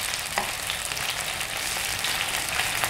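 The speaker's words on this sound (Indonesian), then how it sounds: "Kita tumis dulu sampai matang." Beef for a teriyaki broccoli beef dish, clumped with cornstarch, stir-frying in a pan: a steady, close, dense sizzle with faint stirring clicks throughout and no voices.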